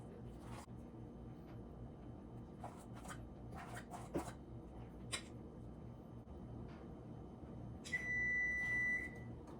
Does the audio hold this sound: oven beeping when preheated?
yes